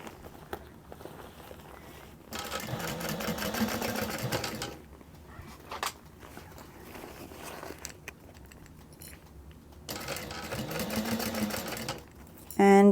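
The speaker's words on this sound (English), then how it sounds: "now we will be stitching down the second side of the binding" A sewing machine stitches binding onto a fully lined mini backpack in two loud, steady whirring runs, separated by quieter pauses with small handling noises.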